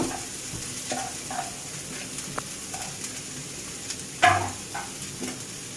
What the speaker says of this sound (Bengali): প্রথমে আমি পেঁয়াজ দিয়ে দিলাম।